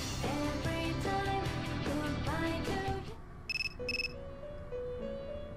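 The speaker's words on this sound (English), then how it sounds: "Joseph's phone is ringing." In Persona 3 Portable, a phone rings in-game as two short, bright electronic chirps near the end, heard over soft game background music with no talking.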